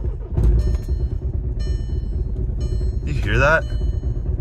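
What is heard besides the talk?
car engine idling roughly with dogbone insert removed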